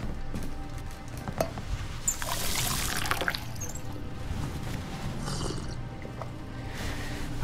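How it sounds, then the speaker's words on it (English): A character drinks water in the video game Twelve Minutes: a few seconds of gulping and liquid sloshing with soft clinks, then a brief pouring swell midway, with quiet game ambience around it. "she's drinking water"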